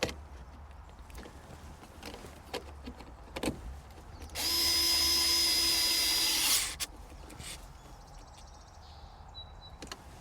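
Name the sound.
tightening a screw on a gauge pod install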